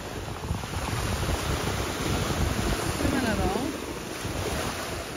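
Waves wash in at Alykes beach on Zante while a breeze buffets the microphone, a steady broad roar of surf and wind with no voices.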